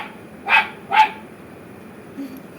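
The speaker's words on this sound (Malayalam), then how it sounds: "പപ്പി പപ്പി എന്ന് ഒരു പ്രാവശ്യം പറയുമ്പോൾ 10 പ്രാവശ്യം കുരയ്ക്കും" A mother dog gives two sharp, separate barks close by, followed by quieter faint sounds and low background noise.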